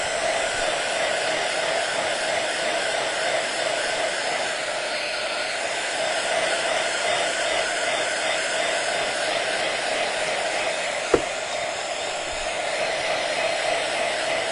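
A hair dryer blows steadily and close by, drying a craft witch hat and boots with a continuous even whoosh, broken once by a brief click near the end.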